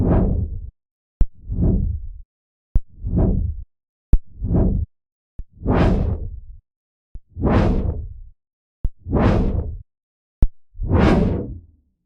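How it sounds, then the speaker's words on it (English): Eight separate synthesized white-noise whooshes with moving filter sweeps, each swelling and fading over about a second, later ones brighter and fuller, every one preceded by a sharp click, spaced evenly with silent gaps between. "I can't just put a straight white noise whoosh into my sounds"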